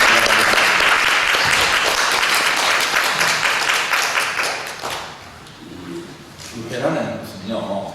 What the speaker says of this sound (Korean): 원사님께 감사한 박수 한번 드리겠습니다